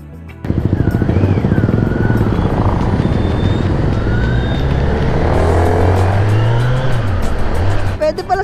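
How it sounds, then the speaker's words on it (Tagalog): Traffic noise heard from a moving motorcycle, a loud, steady engine and wind drone with passing vehicle sounds and shifting engine pitch, close and continuous, with someone talking over it. "Ah, traffic!"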